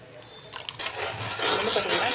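A cornflour and water mixture is poured into simmering jamun (naval pazham) fruit jam, a short liquid splash that swells into a louder wet, bubbling rush, close by.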